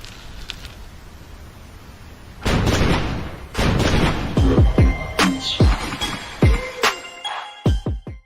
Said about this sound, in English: You want to play the cannon? Yeah, we play that right now.